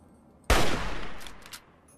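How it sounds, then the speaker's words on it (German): A single sharp shot with a ringing tail goes off in the video game Fallout 3, loud and close against quiet background, with faint clinks afterward. Nobody speaks. "Wenn unsere Schüsse da überall ankommen"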